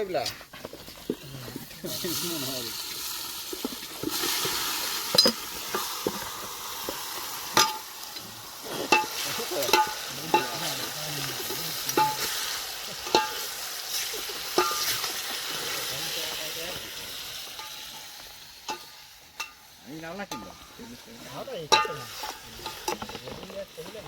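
Vegetables hiss and sizzle in a hot pan, broken by repeated scraping stirs, while people talk in Gujarati over the cooking during a chicken party.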